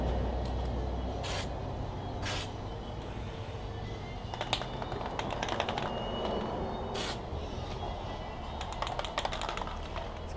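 A spray gun lays a second coat of paint on the roof of a Datsun 1200 during rust repair, a steady close hiss running through the whole stretch with a few sharp bursts.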